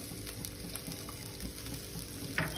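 Onion and paneer pieces fry in oil in a kadai with a soft, steady sizzle. A faint stir lands near the end.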